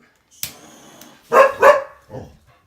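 A dog barks from indoors, a short burst of several loud barks with a softer yip at the end, close and clear with no talk.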